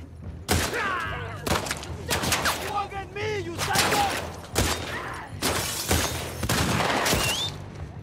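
Gunfire in The Last of Us Part II: repeated loud, sharp shots in irregular bursts throughout, with a person talking between them.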